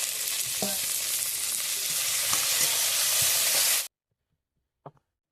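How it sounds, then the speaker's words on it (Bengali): Spices with ginger-garlic paste and chopped tomato frying in a pan make a loud, dense, even sizzle for about four seconds, then cut to near silence broken by one brief knock. "দিয়ে ভালো করে আমি মশলাটাকে ভেজে নেব। টমেটো কুচি করে নিয়েছি, দিয়ে দেবো।"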